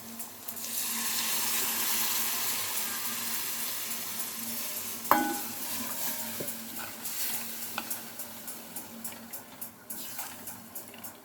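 Buttermilk is poured into kadhi cooking on a gas flame turned up to full, making a steady watery hiss and sizzle. Occasional spoon clinks and stirring taps follow, with no talking.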